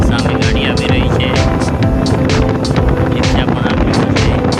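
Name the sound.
motorbike riding on road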